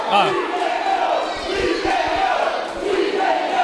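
A wrestling crowd at a two-out-of-three-falls match chants in unison, a loud, rhythmic mass of voices filling the arena, with a commentator's speech underneath.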